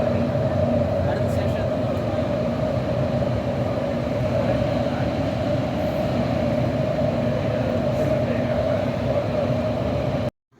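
A Doha metro train rumbles steadily at a station for several seconds, its low, even drone loud and close, with a faint murmur of voices underneath before it cuts off at the end.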